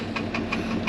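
A tachometer cable in a vehicle clicks in quick, evenly spaced ticks, about five per second, over a steady low engine idle on a subzero farm morning.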